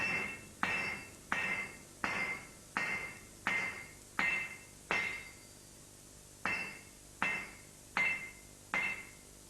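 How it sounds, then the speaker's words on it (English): A hammer strikes metal over and over while shaping a curved radius, about eleven sharp, ringing blows in a steady rhythm with a brief pause midway, close and loud with no talking. "Need a bigger hammer."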